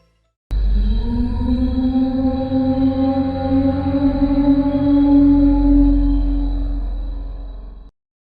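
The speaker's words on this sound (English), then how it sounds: "This phenomenon is known as space roar and still remains an unsolved problem in the world of astrophysics." Space roar, cosmic radio waves converted to audible sound, plays as a sustained eerie tonal drone with stacked harmonics that starts abruptly, holds steady for about seven seconds and then cuts off.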